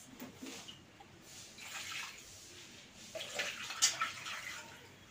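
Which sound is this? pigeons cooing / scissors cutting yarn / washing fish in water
washing fish in water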